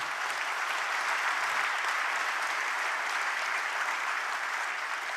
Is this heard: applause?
yes